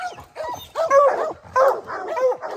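Hunting dogs chasing a bear in the West Virginia woods bark and yip close by in quick, excited bursts, several barks in a row separated by short pauses.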